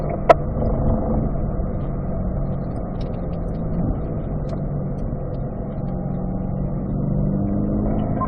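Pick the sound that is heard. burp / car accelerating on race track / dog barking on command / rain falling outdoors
car accelerating on race track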